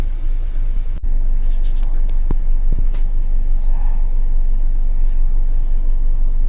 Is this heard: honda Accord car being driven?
yes